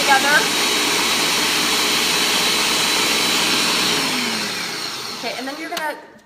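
A Ninja blender whirs steadily on high while processing peanut butter, a loud continuous motor roar that fades near the end, with a voice faintly audible under it.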